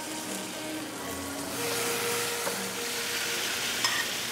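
Pre-marinated, boiled octopus sizzles in a hot pan, a steady close hiss of frying that swells slightly as it settles, with small pops and crackles and no talking.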